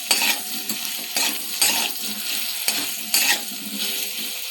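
Close sizzling of potatoes frying in a pan over low gas flame, punctuated by several scraping strokes of a spoon stirring at irregular intervals.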